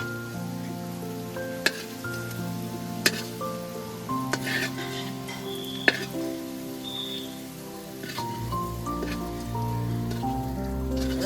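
Potatoes fry in hot oil, a steady sizzle running the whole time with a few sharp clicks, while a tonal background sound runs underneath.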